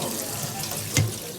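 Tap water running steadily over bamboo shoots being rinsed in a kitchen sink, with a brief louder splash near the end and no talking.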